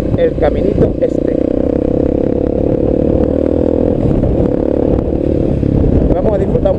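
A VOGE 300 Rally motorcycle rides along a country trail, its steady mid-pitched engine drone running continuously close by, with some clatter and a rider's voice heard over it.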